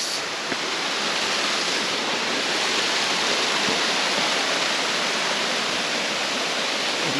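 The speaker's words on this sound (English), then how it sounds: "waterfalls and creeks." Waterfalls and creeks near a cave exit in Sequoia National Park give a steady, dense roar of rushing water that holds throughout, with no voices.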